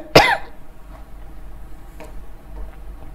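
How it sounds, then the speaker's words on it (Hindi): A man gives a single sharp, loud cough up close, followed by a quiet room with faint ticking and small clicks. "बहुत खांसी हो रही है यार"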